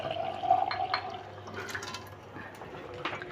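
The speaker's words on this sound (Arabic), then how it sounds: "مناسبه له هنحط شويه ميه تاني" Water being poured into a freekeh and fish dish, a gentle trickling splash with small gurgles and drips, fairly quiet and close, with no speech.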